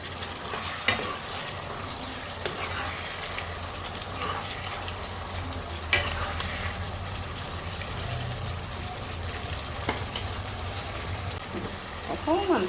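Chopped spinach stirred in a frying pan for a chicken dish, a steady soft sizzle with occasional scraping clicks of the utensil and a few louder knocks, close and moderately quiet.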